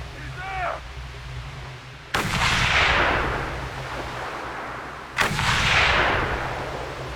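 Two sharp sniper rifle shots ring out in the Mad Max video game, each a sudden loud crack trailing into a long rumbling echo, a few seconds apart, with a brief voice-like sound before the first.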